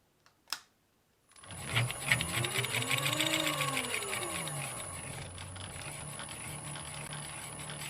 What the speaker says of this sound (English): now it's time to cut off a piece of this copper tubing